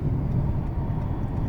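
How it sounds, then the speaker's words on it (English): Steady wind rush through a partly open window of a moving 2018 Honda Accord Touring 1.5L, a low, even roar of air and road noise that runs unbroken through the short stretch. "you can hear the wind, right? And all the noises around you."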